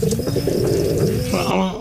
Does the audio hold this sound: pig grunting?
no